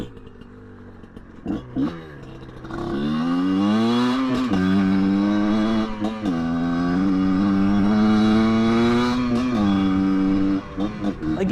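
Kayo KT 250 liquid-cooled two-stroke enduro motorcycle being ridden, its engine note rising and holding through steady revs and throttle changes, loud and close with no talking.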